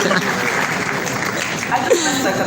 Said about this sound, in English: another round of applause for all the TED Talkers